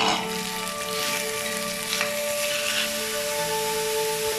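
Onion and pork sizzle in a hot pan for chop suey, a steady bright frying hiss with faint stirring scrapes, close up and without talk.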